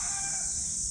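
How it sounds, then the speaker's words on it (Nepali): A rooster crows in a countryside forest area in Japan, one clear sustained call heard close and alone. "कुखुराले हामीलाई देखेर बासेको जस्तो"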